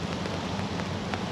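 Steady rain falling outdoors in The Villages, Florida ahead of Hurricane Ian, a dense continuous hiss with faint scattered patters, no voices.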